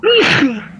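A single loud, sharp sneeze, close by, with a brief inhaled buildup and a quick burst that fades out.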